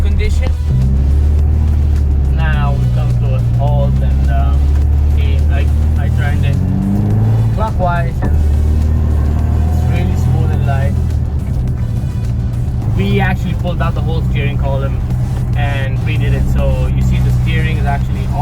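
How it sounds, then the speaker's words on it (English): A car with newly installed electronic power steering hums along a rough road on a test drive, with a loud, steady engine and road drone throughout and people talking over it. "We're just going for a test drive to see if everything is okay before we release the car to our client."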